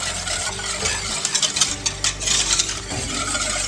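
Spoon stirring pudding in a pot on the stove, scraping and clinking steadily against the metal with light sizzling underneath, close and continuous with no talk.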